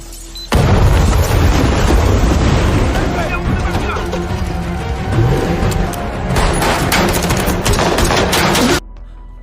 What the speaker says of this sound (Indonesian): Dia juga menyiapkan sebuah bom dan membakar bangunan itu